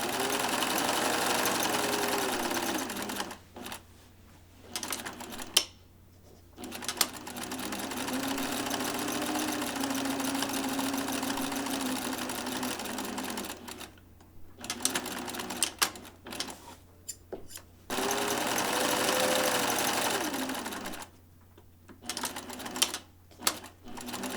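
Sewing machine stitching buttonholes on a shirt, running in steady buzzing bursts of several seconds separated by short pauses, close and moderately loud with no talk.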